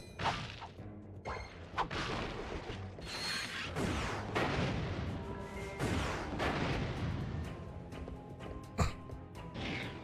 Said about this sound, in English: Now I can focus on using the mini rocket tube